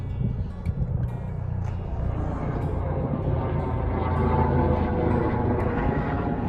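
A helicopter's steady, throbbing engine rumble passes overhead in St. Ingbert, Germany, growing gradually louder and filling the low end throughout.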